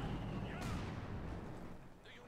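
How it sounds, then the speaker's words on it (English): A grenade explodes against a Sd.Kfz. 222 armored car in a tank war video game, a loud low boom with a sharp burst that rolls off into a rumbling decay over a couple of seconds. "Gets the grenade. Bam. That should put the 222 out of action for a while."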